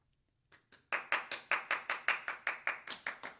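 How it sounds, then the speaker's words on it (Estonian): A few hands clap at a school holiday assembly, starting with a couple of tentative claps and then settling into an even, steady beat of about a dozen sharp, close claps. "Õige, aplaus."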